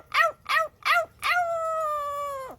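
A pet parrot imitates a dog howling, with three quick yelping calls followed by one long, sustained, steady howl that drops off sharply at the end, loud and close.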